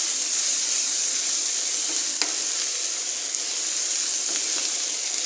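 Sliced bitter gourd with egg sizzles and fries in a pan, a loud steady hiss throughout, with a few sharp scraping clicks of a utensil stirring.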